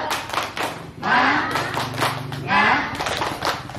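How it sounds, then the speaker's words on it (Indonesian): A group claps together in a rhythmic spirit-clap pattern at a children's recycling education session, the claps loud and close, steady bursts overlapping with voices. "Tepuk semangat."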